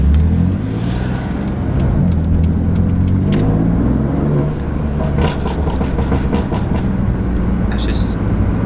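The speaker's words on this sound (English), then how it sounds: "I've got it set up to give me pops and bangs when I want." BMW F80 M3 exhaust revving with a tune set for pops and bangs, deep rising and falling engine tones followed by sharp crackles and bursts from the exhaust, loud and close.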